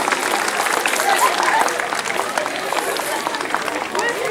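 An audience claps steadily and densely at an outdoor bird of prey flight show in Alsace after a Steller's sea eagle's pass, applause filling the whole moment at even strength.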